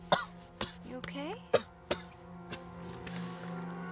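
A man coughs several times in sharp, close bursts, with a brief throat-clearing rasp and a murmuring voice between them, over a steady low hum in a scripted drama scene.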